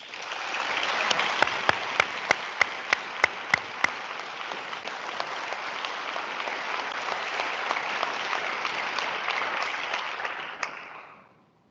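An audience at a high school senior awards ceremony applauds steadily for about ten seconds, with a few sharp nearby claps standing out early before the clapping fades out.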